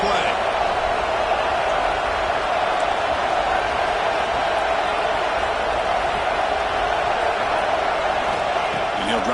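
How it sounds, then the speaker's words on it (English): Stadium crowd noise at a college football game, a dense steady roar of many voices filling the whole stretch at an even, loud level with no break. "listen to this crowd noise. This stadium is vibrating."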